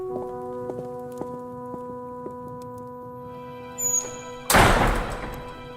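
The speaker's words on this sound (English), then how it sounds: "Close the doors, friends." Heavy doors swing shut in a fantasy audio drama, a soft creak and thud followed by a loud, close slam that rings briefly after a quiet stretch.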